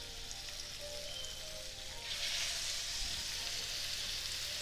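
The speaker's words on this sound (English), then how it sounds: "I'm gonna go ahead and add the patties in." Salisbury steak patties hit a hot pan with butter, and a low background sizzle swells into louder, steady searing crackle partway through, with no talking.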